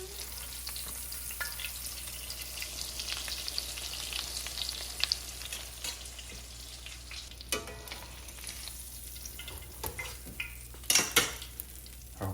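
A pork cutlet deep frying in hot oil crackles and sizzles steadily and loudly, with a few light clinks of a utensil or pan near the end, and no voices.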